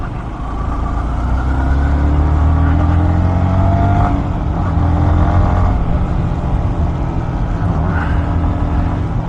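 A Yamaha XSR 155 motorcycle ridden through city streets gives a steady, loud engine drone with rising and falling revs and wind rush, continuous throughout with no talk.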